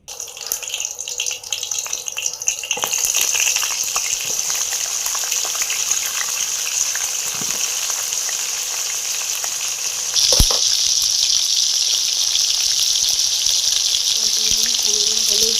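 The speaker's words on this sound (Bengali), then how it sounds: "তাহলে প্রথমেই আমি পটলগুলো ভেজে নেব।" Pointed gourd (potol) frying in hot oil in a home kitchen, a steady loud sizzle throughout that grows harsher partway through, with occasional utensil clinks.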